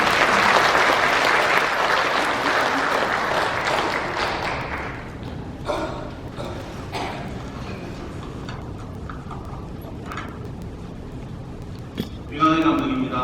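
An audience in a Presbyterian church applauds to welcome a speaker. Loud, dense clapping fills the first few seconds and then thins into scattered claps, with talk following.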